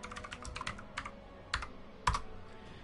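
Computer keyboard typing close up, a sparse series of individual key clicks with a few louder clacks, quiet background and no talk.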